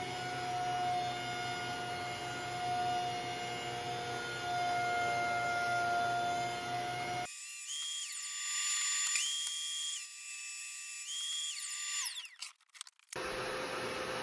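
A wooden live-edge tabletop feeds through a thickness planer, giving a loud, steady machine roar with whining tones that shifts to a thinner high-pitched whine partway through before the full roar returns.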